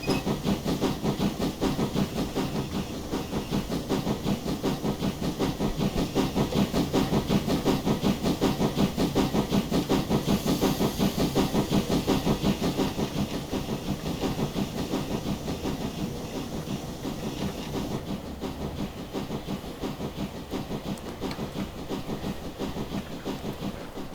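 A USATC S160 2-8-0 steam locomotive in Train Simulator Classic chuffs steadily with rapid rhythmic exhaust beats over a constant steam hiss, staying loud and close throughout.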